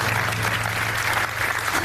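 Studio audience on the TV game show Deal or No Deal giving reluctant applause, a steady, even wash of clapping from many hands that stays at one level throughout.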